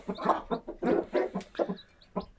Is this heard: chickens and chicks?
yes